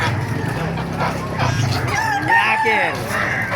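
Chickens cluck and a rooster crows nearby amid a busy poultry market din in Baliuag, Bulacan, Philippines, with people talking in the background.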